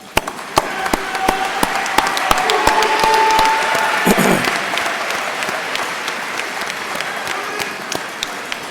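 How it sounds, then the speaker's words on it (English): Graduates at a College of Engineering commencement applaud their parents and families, a loud sustained wash of clapping from a large crowd with distinct close claps popping through and a voice briefly heard partway through. "just give them a round of applause"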